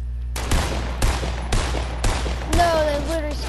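Gunfire from a weapon in Fortnite: four or five loud, evenly spaced shots crack out at roughly half-second intervals over a steady low hum, followed by a brief rising electronic tone.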